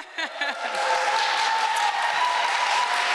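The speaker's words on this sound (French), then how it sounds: "tout le monde applaudit en arrière." Audience applause at a gala, a broad sustained wash of clapping that builds quickly after a brief burst of voices at the start and holds steady and loud to the end.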